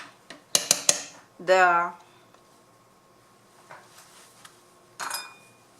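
A pot of beef stew goes back into the oven: rapid metallic clanks and a drawn-out scrape of the pot against the rack, then one later clink, with a voice speaking briefly between.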